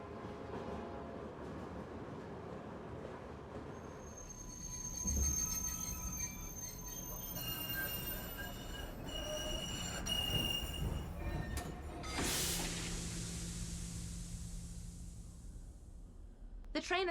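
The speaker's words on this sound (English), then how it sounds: "The train has stopped." A train in the game Murder in the Alps rolls along with rhythmic rail clatter and squealing wheels, then slows and comes to a halt with a sharp hiss of released air, while background voices talk.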